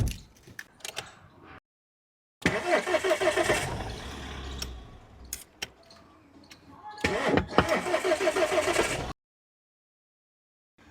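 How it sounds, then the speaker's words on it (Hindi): A car engine cranks repeatedly without catching, two long grinding starter bursts separated by a pause, with short clicks and rattles before and a sudden cut to silence after each attempt. "स्टार्ट क्यों नहीं हो रही है गाड़ी?"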